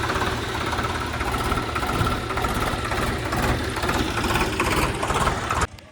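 A tractor engine, Mahindra or Sonalika, idles during mud-hauling work, a steady, close, heavy diesel rumble with a rhythmic knock that runs for nearly six seconds and then cuts off abruptly.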